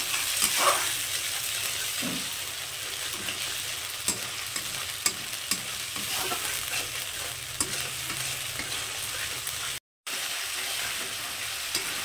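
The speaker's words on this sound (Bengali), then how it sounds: "এবার এটাকে খুব সুন্দর করে একটু কষিয়ে নেব মশলাটাকে" Spice paste (masala) fries in oil while it is stirred. A continuous close sizzle carries regular spoon scrapes and taps, with a brief dropout near the end.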